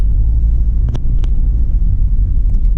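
A mid-engine camper van drives along with a steady low rumble of engine and road noise, close and continuous, with a few faint clicks over it.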